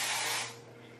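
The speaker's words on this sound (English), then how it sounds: "See, I'm just spraying that in," Hair product sprayed from a can onto hair in one close, loud hissing burst that fades away within a second.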